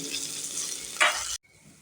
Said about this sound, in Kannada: ಒಂದು 2 ನಿಮಿಷ ಮೊಳಕೆ ಕಾಳನ್ನು ಹುರ್ಕೋತಾ ಇದ್ದೀನಿ